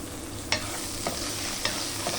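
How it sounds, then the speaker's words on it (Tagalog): Chopped onion sautéing in hot cooking oil in a pan while being stirred, a steady sizzle broken by four spaced utensil scrapes against the pan, close and fairly loud. "Ayan, naggigisa lang natin yung sibuyas. Haluin lang natin."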